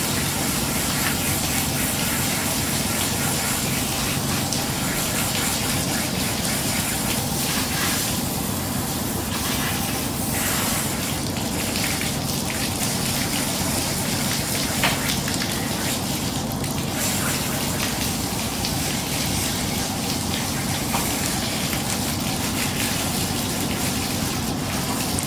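Water sprays steadily onto hair during dyeing, a continuous loud hiss and gush that runs unbroken throughout with slight fluctuations in intensity.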